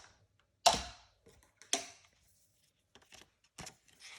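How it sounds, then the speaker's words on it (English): Scissors snip through paper during journal crafting, a few sharp close-up cuts: two louder snips followed by softer, scattered clicks and rustles, with no talking. "So then I would take my scissors and cut it."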